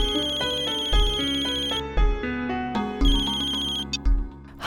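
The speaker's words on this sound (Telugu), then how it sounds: "ఒక్క నిమిషం, నేను సోనాకి కూడా ఫోన్ చేస్తాను" A phone ringtone plays steadily while an outgoing call connects, a looping melodic tone with regular repeating phrases, loud and close, with no talking over it.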